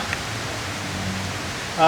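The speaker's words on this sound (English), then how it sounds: "Rain's starting to pick up" Rain falling outdoors at a shooting test of a Heritage .22 revolver, a steady soft hiss of drops throughout, ending with a brief louder sound.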